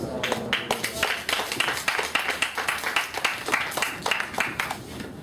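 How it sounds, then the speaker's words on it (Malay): An audience claps in a continuous burst of sharp, overlapping hand claps that lasts throughout, moderately loud, with a voice faintly underneath. "Boleh saya dengar satu tepukan yang gemuruh sekali lagi"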